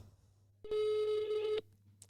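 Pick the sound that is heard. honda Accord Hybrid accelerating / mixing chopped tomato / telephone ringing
telephone ringing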